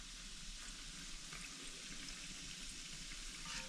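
Doughnuts fry in a pan of hot oil with a steady, loud, continuous sizzle and bubbling, the hiss holding even throughout as they are turned over.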